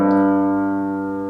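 A single low sustained note, the lowest on the grand staff, rings out on an instrument, rich in overtones and slowly fading over about a second, alone and close.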